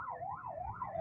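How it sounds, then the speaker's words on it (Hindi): An ambulance siren wails in a steady rising and falling cycle over low traffic rumble at a busy town crossroads in Fateh Jang, Attock, close and continuous with no talk. "पीछे इसमें एक एम्बुलेंस की गाड़ी,"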